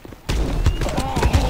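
Gunfire and a thrown grenade going off in the mobile shooter Guns of Boom, with a dense, steady run of shots and a blast over a low rumble, close and loud.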